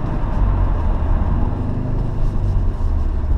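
Steady low engine rumble and road drone from a Subaru Impreza WRX hatchback cruising along, a continuous deep hum heard from inside the car with no talking.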